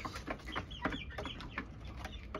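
Criollo chickens about three months old cluck in a steady run of short, overlapping calls from a small flock of young roosters and hens, moderately close and continuous with no speech.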